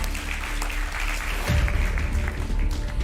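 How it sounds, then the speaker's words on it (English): Audience applause for a high school debate team at a debate competition, a continuous wash of clapping with a low rumble partway through, no speech. "A round of applause for them."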